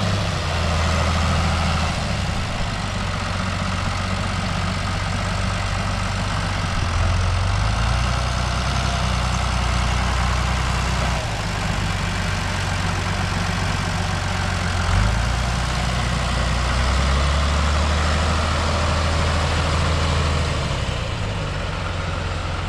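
A tractor engine idles steadily with a seed drill attached, a loud, continuous low rumble that shifts pitch slightly a few times and runs alone throughout with no talk.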